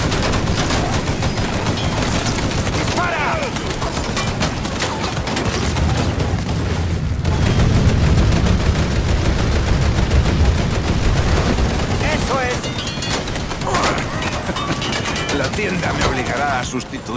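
Sustained gunfire in the video game Mafia III, dense rapid bursts and heavy shots rattling almost continuously at close range, with shouting voices mixed in.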